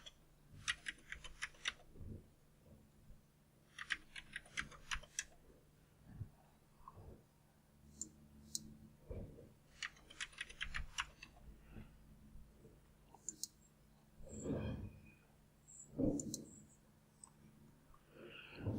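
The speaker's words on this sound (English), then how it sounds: "And then just type a password for that user." Quiet bursts of clicking computer keyboard keys as a password is typed, coming in short irregular clusters with pauses between them, against a low background hum.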